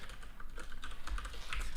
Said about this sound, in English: nobody can see me typing right now because it's a complete disaster